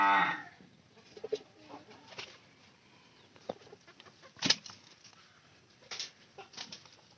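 Pigeons cooing softly in a loft with well-fed birds, low murmuring calls scattered across the clip with a few brief louder bursts and faint rustling, no talk.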